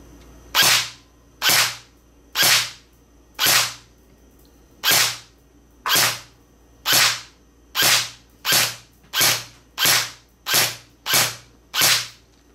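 Elite Force CQC M4 airsoft gun fires about fifteen sharp, close, loud pops, spaced unevenly at first and then quickening into a steady run of shots, with no talking.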